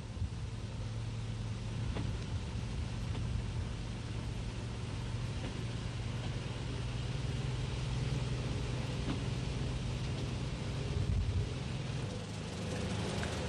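Narrow gauge railcar number 10 running on bumpy track through Barnesmore Gap in Donegal, a steady continuous engine and rolling roar heard from on board, with faint irregular knocks from the rough track.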